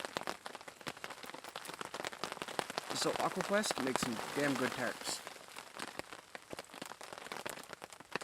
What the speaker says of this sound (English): That's been up all night taking rain and snow